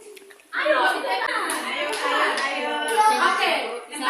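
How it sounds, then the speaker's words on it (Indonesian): Elementary school children clapping their hands together in a classroom, a dense burst of many hands that starts sharply and keeps going for several seconds, with children's voices and chatter mixed in. "Tepuk tangan."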